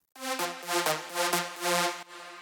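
A bold, buzzy Spire synth lead preset plays a sequence of sustained notes with a crunchy, harmonically rich tone, loud and alone.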